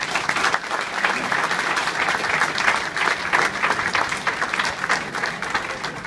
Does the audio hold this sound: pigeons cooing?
no